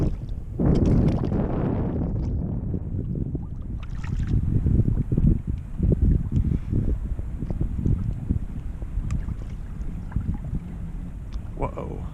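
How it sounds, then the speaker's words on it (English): Strong wind buffets a small fishing boat on open water, a loud, continuous low rushing roar with gusty surges and faint water noise. "Oh man, this wind is killing me though."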